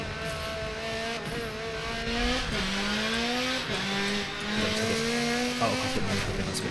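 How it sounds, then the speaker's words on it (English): Loud Forza Motorsport 7 racing car engines roar and rev continuously, pitch rising and dropping through gear shifts, with no talking. "now you're going to hear how loud these bloody cars are"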